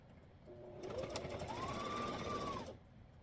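A sewing machine stitches a pocket onto the base piece of a ruler organizer, one steady whirring run of about two seconds that starts and stops cleanly in a quiet room.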